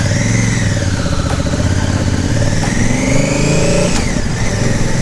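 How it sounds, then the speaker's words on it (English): A Honda Africa Twin motorcycle fitted with a Cordona quick shifter accelerates hard, its loud close engine climbing in pitch and dropping briefly at quick clean gear shifts, with no speech. "Alright, let's take it for a test ride."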